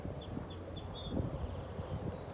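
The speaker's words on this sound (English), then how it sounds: "Hear them. Hear the peeping." Young sparrows about twelve days old peep from their nest in short, thin, high calls, repeated several times, faint and distant over a steady outdoor rustle and low background noise.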